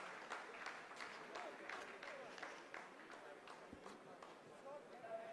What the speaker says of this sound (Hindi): आप इस तालियों के गड़गड़ाहट को सुन सकते हैं